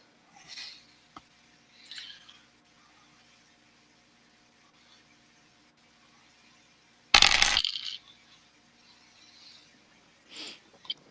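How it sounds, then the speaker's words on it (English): Dice clatter once in a loud burst for a Dead of Winter board game turn, preceded by a few faint clicks and soft rustles and followed by a quieter rattle, with no talking. "So now we roll our dice."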